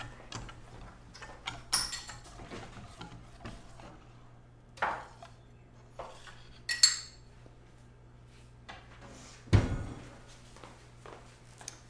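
Dishes and cutlery clink and rattle in a kitchen as a bowl is fetched, a scatter of sharp close chinks and knocks in irregular bursts over low background hum.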